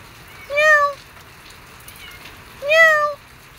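A cat meows twice, loud and close, each call rising then falling, with a quiet gap between and a faint patter of rain underneath.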